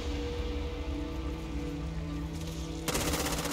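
Gunfire in the video game Back 4 Blood, a dense continuous rattle of rapid shots over a droning background, suddenly louder and harsher in the final second.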